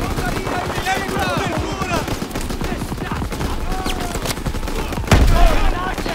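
Call of Duty WWII battle erupts with sustained machine gun fire, rapid rattling bursts rolling continuously under shouting soldiers, with one sharp louder report near the end.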